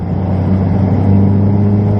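A Ferrari race car on the Silverstone circuit accelerates hard out of a corner, its engine a loud, steady close-up drone from inside the cockpit with no voices over it.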